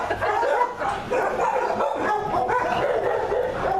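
Several dogs bark and yip at an animal shelter run by a humane society, a loud, overlapping chorus of barks echoing through a kennel building, continuous throughout with no clear speech.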